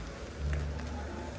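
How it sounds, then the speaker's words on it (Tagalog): Rain falls on an umbrella outdoors in Phuket, a steady soft hiss and patter with low rumbling, continuous and close throughout. "Sana wag lumakas ang ulan."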